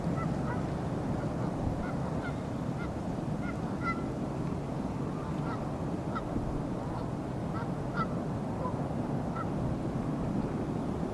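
A flock of geese honks repeatedly at moderate distance, scattered calls rising over a steady outdoor background hiss with no voices.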